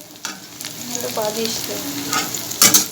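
Okra and potato frying in a pan with a steady, close sizzle and stirring scrapes, ending in a brief louder clatter.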